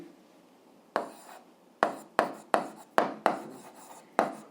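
A pen writing by hand while solving an eighth-grade algebra exercise, with a series of distinct scratchy strokes in an uneven rhythm, close and fairly quiet, with no talk.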